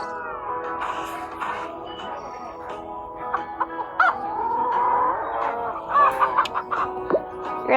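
Chickens cluck and squawk in a busy, irregular chorus close by, with scattered sharper calls and soft thumps in between.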